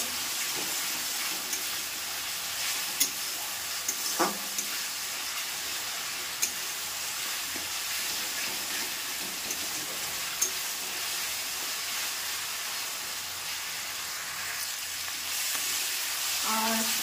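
Paste frying and being stirred in a hot kadai, a continuous close sizzle with occasional scraping taps of the spoon against the pan, steady and moderately loud with no talk.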